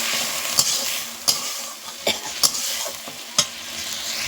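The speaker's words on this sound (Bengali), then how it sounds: "এবার একটু অল্প একটু জল দিয়ে দিচ্ছি" Spice paste for a koi fish curry sizzles steadily in hot oil after a little water is poured in. A utensil stirs and scrapes the pan in several sharp knocks, the cooking heard close up with no talking.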